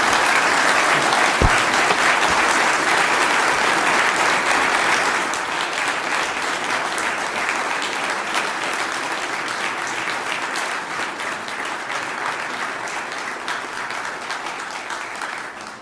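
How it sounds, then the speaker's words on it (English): An audience at a forum event on North Korea's nuclear threat breaks into sustained, dense applause that continues loudly throughout, easing slightly after the first few seconds but never stopping. "ladies and gentlemen, please give that room a round of applause"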